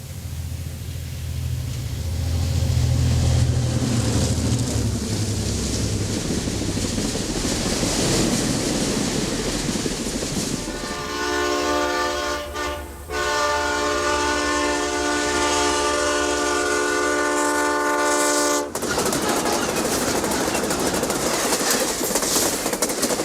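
Amtrak's Florida-bound South Wind passenger train, number 90, approaches on rails heading into Indiana, its loud rumble building before a long sustained horn blast rings out over the rolling wheels, then cuts off as the train noise continues.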